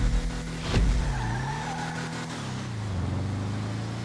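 Bravado Youga Classic van racing in GTA 5, with a droning engine that rises and dips and a brief tire squeal near the start, heard alone without talk.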